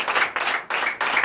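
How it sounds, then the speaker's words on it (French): Church congregation clapping for Jesus at a Sunday service, loud rhythmic clapping in four evenly spaced bursts, close and dense. "Donnez l'acclamation à Jésus."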